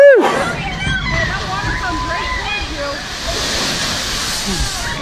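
Water rushes and splashes from the big drop of the Sploosh riverboat ride at Knoebels amusement park, a loud, continuous roar with riders and onlookers shouting and chattering over it.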